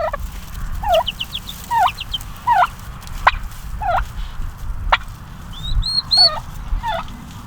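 Turkeys gobble repeatedly in rapid, warbling bursts, several calls overlapping at varying distances against a low rumble of background noise.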